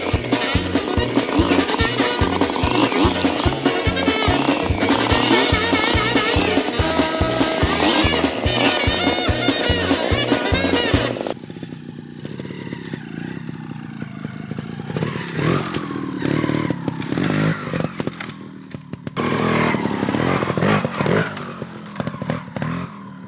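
A trials motorcycle being ridden, its engine loud and steady at first, then dropping to a rougher, choppier running note with revs rising and falling; no talking.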